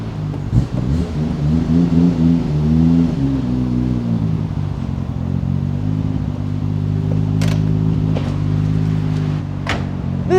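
A Nissan Skyline GT-R R33 V-spec with an RB26 engine, R34 turbos, light tuning and a stainless front exhaust pipe idles roughly and loud, with a short rev that rises and falls early, close by.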